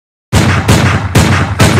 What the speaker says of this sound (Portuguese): Qual foi desse tiro aí